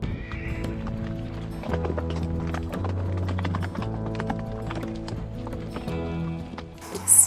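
Steady clip-clop of Icelandic horse hooves at a walking rhythm while riding with a herd in Iceland, fairly close, with a low rumble of movement underneath and a brief louder burst at the end.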